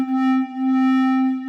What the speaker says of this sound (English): So this will be the sine wave here.